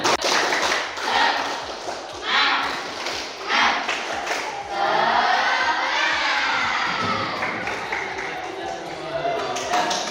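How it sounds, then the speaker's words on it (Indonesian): Schoolchildren in a classroom perform a rhythmic clapping chant, with bursts of patterned claps and excited shouting voices layered over a teacher's prompting, the group noise rising and falling across the stretch. "Tepuk semangat."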